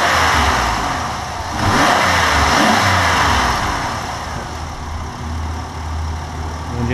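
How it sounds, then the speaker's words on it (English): The V6 engine of a 2002 Chevy Impala police-clone sedan with 200K miles runs steady and smooth, loud and close, with a gentle rise in revs early on before it settles back to an even idle. "the engine's very smooth, sounds really good."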